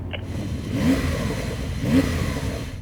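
A Porsche Turbo S engine revs twice in quick succession, each rise brief and muffled, heard from a short distance over a low running hum.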